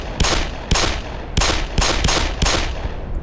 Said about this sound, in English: Shoot in the face with a crappy pistol!